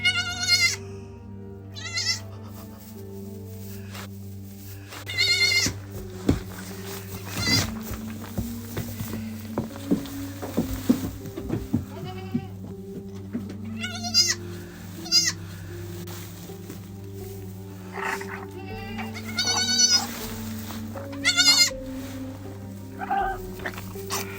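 Goats bleat repeatedly during a birth in a farm pen, with loud, wavering calls rising at irregular intervals over a low steady hum, and some faint rustling and thumps between the cries.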